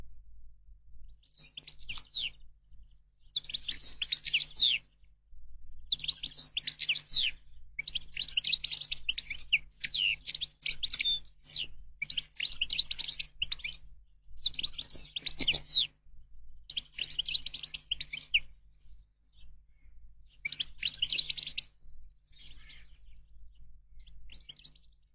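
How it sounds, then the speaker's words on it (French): European goldfinch singing from tall trees along a stream, a bright run of rapid tinkling, twittering phrases delivered in bursts with short pauses, fairly close and clear over a faint low hum. "Gais et enjoués, les chardonnerets aiment les grands arbres qui bordent les ruisseaux."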